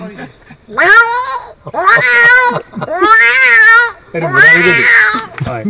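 Someone imitates two cats fighting with a run of long, whining meows and yowls, four drawn-out cries in a row that sound like an escalating cat fight.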